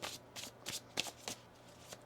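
Tarot cards are shuffled by hand in a series of quick, soft riffling bursts, about six of them, close and fairly quiet with short pauses in between.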